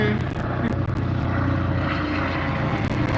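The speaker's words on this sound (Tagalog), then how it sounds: "Ayun helicopter." Helicopter passing overhead, a loud, steady rotor and engine drone that stays strong throughout with no voices over it.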